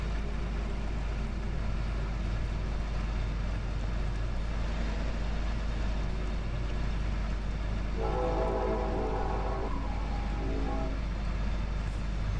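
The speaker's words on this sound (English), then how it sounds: "Train is loud." A train rumbles past near a rural field with a low steady roar, and a horn sounds briefly near the end.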